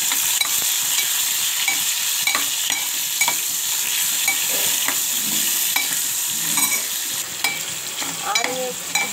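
Tomato and garlic fry in a hot pan, a continuous bright sizzle broken by frequent scraping stirs, close and steady with no talking.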